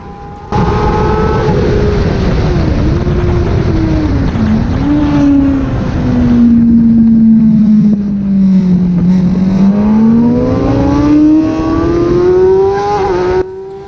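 A sports bike engine screams at high revs while accelerating on the Anglesey race track, the loud, continuous note sweeping down and back up through the gears, close to the microphone with steady wind rush and no voices.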